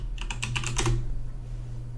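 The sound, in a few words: typing on a new computer keyboard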